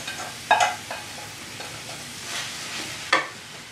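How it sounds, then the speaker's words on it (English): Cauliflower rice is tipped into a pan dish and stirred through, giving soft scraping stirs and a few sharp clacks of the utensil against the pan over a faint sizzle. "I will take the cauliflower rice and just dump this right in and mix that in with the rest"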